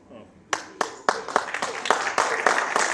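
An audience at a live talk bursts into clapping that starts with a few sharp claps and quickly swells into steady, dense applause, loud and close.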